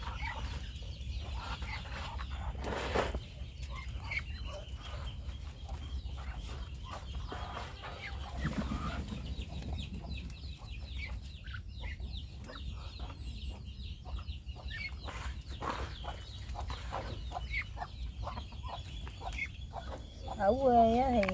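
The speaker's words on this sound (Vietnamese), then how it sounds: "Đàn vịt của em á, đàn vịt này là được 4 tháng rồi đó cả nhà." A flock of four-month-old ducks at a rural Vietnamese farm, their calls clucking and chattering continuously near and far over a steady background, punctuated by a few louder bursts.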